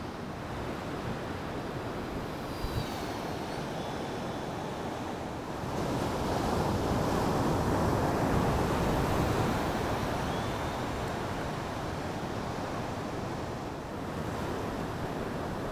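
Ocean waves and surf rolling onto a shore as the tide rises, a constant loud wash that swells in the middle, with some wind rumble on the microphone and no talking.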